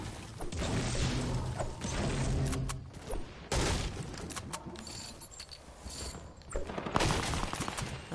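Drum gun firing in a video game, loud rapid bursts of automatic fire in several runs with short gaps, mixed with mechanical clatter and impact sounds, no talking.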